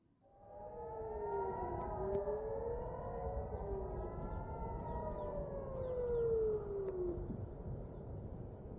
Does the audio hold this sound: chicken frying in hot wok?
no